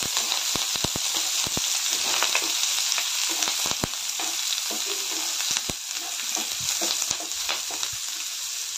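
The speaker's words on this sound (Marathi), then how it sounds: "त्यानंतर कांदा आणि कढीपत्ता एकत्र घालूया। चांगलं भाजून घेऊया कांदा।" Onion and curry leaves fry in a pan for a dal and cluster-bean curry, with a steady close sizzle broken by sharp scraping clicks of a spatula stirring throughout, no voices.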